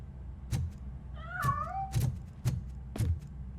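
A cat in the video game RoboCop Rogue City gives one drawn-out, wavering meow, set among several dull thumps spaced about half a second apart, with no talking.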